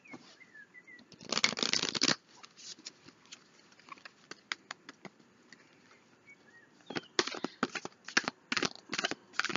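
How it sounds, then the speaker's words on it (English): Oracle cards are shuffled by hand in quick papery bursts, a longer riffle near the start and another run of rapid flicks toward the end, fairly close and quiet with soft pauses between. "last shuffle"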